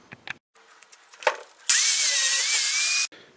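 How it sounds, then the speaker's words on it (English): Flap wheel grinding a welded steel tailgate hinge from a Chevy Silverado: a few quiet scrapes and taps, then a loud steady abrasive whine lasting about a second and a half before cutting off. "take a flap wheel to it, clean it up a little bit"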